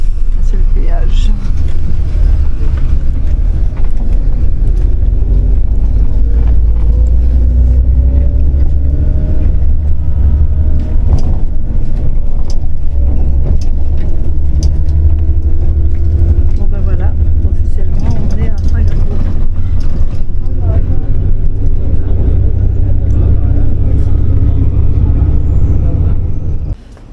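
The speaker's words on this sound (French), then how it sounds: "Oh, il y a du monde qui sort de Singapour. Beaucoup de voitures." Heavy traffic at a border toll leaving Singapore, many cars, heard from a bus as a loud, constant low engine rumble with passing vehicle noise throughout.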